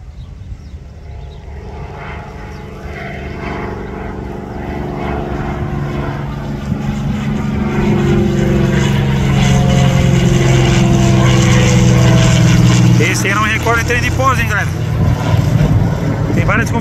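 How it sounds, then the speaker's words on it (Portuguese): A Gol Boeing 737 MAX going around after an aborted landing at Joinville airport, its jet engines building to a loud, sustained roar that swells midway and holds, with voices talking over it near the end. "E o gol acabou arremetendo."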